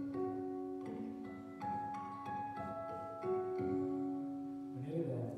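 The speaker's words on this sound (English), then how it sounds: "I create a thing called an artificial harmonic with my first finger" Guitar notes ring out as bright, bell-like artificial harmonics, plucked one after another in a slow, clear sequence, fairly soft and close.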